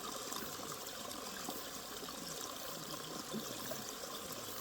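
Fairly quiet, steady rush of a mountain stream in the upper valley of Suraksan, water trickling and splashing continuously with no voices.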